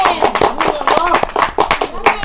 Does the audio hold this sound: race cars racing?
no